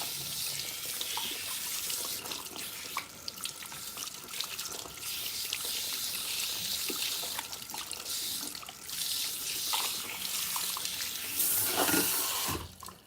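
A faucet runs steadily into a sink as protein treatment is rinsed out of hair, a continuous close splashing stream with brief shifts in flow and no talking.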